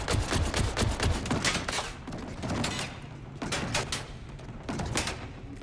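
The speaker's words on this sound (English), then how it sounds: "this gun will just ricochet bullets" Rapid gunfire with ricocheting bullets in the video game Borderlands 4, dense bursts of shots in several volleys with brief lulls between, loud and continuous, no voices over it.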